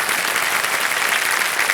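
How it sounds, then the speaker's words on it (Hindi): Studio audience on the KBC quiz show breaks into loud, continuous applause for a contestant who has just quit the game, a thick, even wash of clapping with no pauses. "तालियां बज जाए उनके लिए।"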